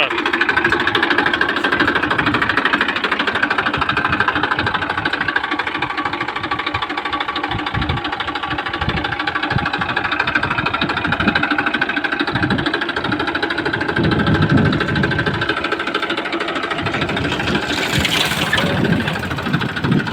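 A 2016 Massey Ferguson 241 tractor, all original, idles steadily with a continuous mechanical chugging rumble throughout, close and loud, with no talk over it.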